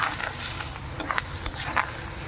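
A fish roe pakora mixture seasoned with salt and turmeric is stirred together, giving a few soft, wet scraping strokes over a low steady background hiss.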